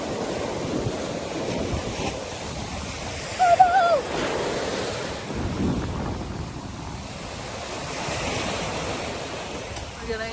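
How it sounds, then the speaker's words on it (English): Wind blows steadily across an open beach, a broad, roaring rush with surf washing underneath and buffeting against the microphone, brief louder gusts rising midway. "the wind is here and it's blowing my hair like this"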